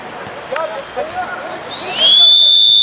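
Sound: referee's whistle starting a football match

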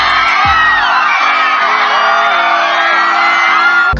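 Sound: audience applauding and cheering for Bad Bunny

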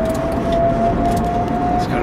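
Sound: Delta E4 Coupe electric drivetrain whine while driving

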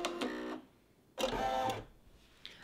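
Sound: Brother PE800 embroidery machine stitching fabric

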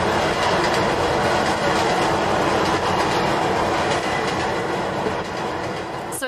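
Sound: train sound sampled in a song

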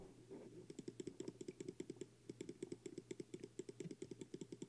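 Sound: computer mouse clicks while playing Cookie Clicker

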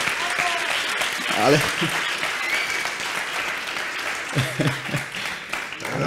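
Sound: audience applause at conference

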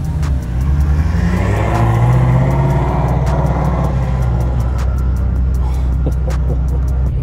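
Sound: Ford Mustang GT350 engine revving as it drives off

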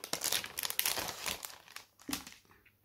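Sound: resealable plastic bag crinkling as photobook is opened

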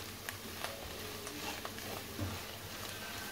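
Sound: sauce with garlic and spices cooking in a pan

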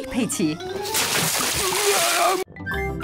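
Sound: water poured onto Daddy Pig, cartoon

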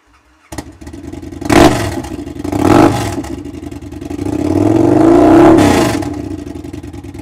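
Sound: motorcycle engine revving, aftermarket exhaust

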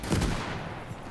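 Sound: 37 mm high-explosive shell fire in Gates of Hell video game

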